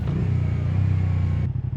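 A 2024 Moto Guzzi Stelvio touring motorcycle's engine runs steadily under way, a loud, close, continuous mid-pitched drone that holds even, then dips and roughens briefly near the end.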